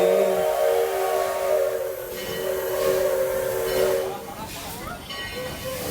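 Steam locomotive whistle sounding in a long sustained tone, followed by loud hissing steam as the train gets underway, close and continuous with no voices.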